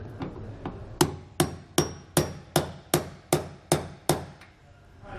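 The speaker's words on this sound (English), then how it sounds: "we can use a socket which will fit over the grease fitting and then tap it in like that" A hammer taps a suspension bolt through a socket fitted over its grease fitting, Dexter E-Z Flex kit on an RV trailer: a few soft lead-in taps, then about nine sharp, evenly spaced metallic blows, close and loud.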